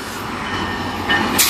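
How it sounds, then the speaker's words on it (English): Loud, steady rumble of a GO Transit or VIA Rail train rolling past nearby at Danforth, with a rising hiss of brakes or rushing air near the end. "Oh, two trains! This is gonna be a train meet!"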